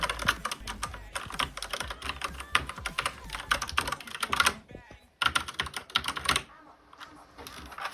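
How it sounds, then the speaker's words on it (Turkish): Typing on a new mechanical keyboard fitted with Red switches: a rapid, steady run of light clicks and clacks, close and fairly loud, briefly pausing twice, with no talk over it. "Red Switch'li klavye gelmiş. Çok hoşuma gitti bakalım. Sesi falan gayet hoş."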